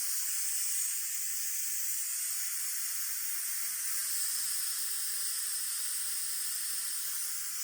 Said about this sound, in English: And we'll wait now until all that steam has gone.